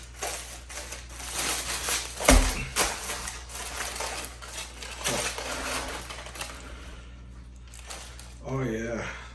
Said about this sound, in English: nothing left to do but chop into this